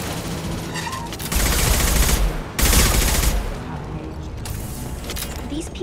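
Bursts of rapid automatic gunfire from the video game Mass Effect 2 come in two heavy volleys, with lighter shooting and clatter around them and faint voices in the background.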